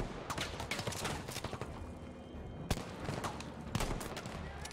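Bursts of aircraft strafing gunfire in the World War II shooter Battlefield V, rapid volleys rattling across the whole clip with two sharper, louder impacts standing out near the end.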